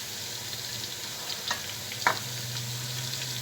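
Onions fry in a pan for chicken biryani with potatoes, a soft continuous sizzle underneath, punctuated by two brief scrape-and-stir clinks of a utensil midway.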